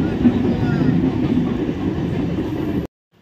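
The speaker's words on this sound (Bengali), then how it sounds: "ট্রেন মানে গেট করেছে, ট্রেন যাচ্ছে" A train passes a level crossing at night with a steady, loud, close rumble of wheels and carriages that holds for nearly three seconds, then cuts off abruptly.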